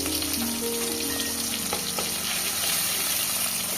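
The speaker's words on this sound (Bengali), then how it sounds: "তাই এবার আস্তে আস্তে মশলাটা কষিয়ে নেবো" Spice paste of tomato, ginger and green chili sizzles steadily in hot oil in a pan, a continuous close frying hiss with faint stirring, while a tangra fish curry with winter vegetables is being cooked.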